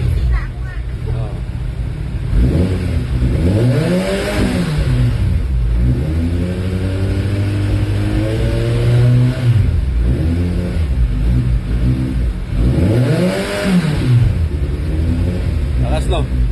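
A 1000cc big bike motorcycle engine revving loudly and steadily nearby, its pitch swelling up and falling back in repeated throttle blips, while people talk over the noise.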